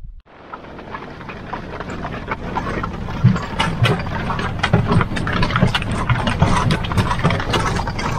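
A vehicle engine runs steadily during a ride up to the top of the Ephesus ruins in Turkey. A constant mid-pitched drone rises after a sudden start, with scattered rattles and clicks over it and no voices.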